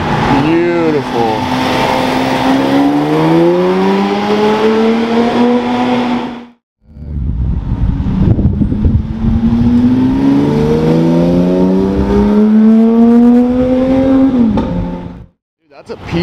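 Porsche Carrera GT V10 engines scream through two long, loud revving pulls, each climbing in pitch before cutting off abruptly, with voices faintly underneath.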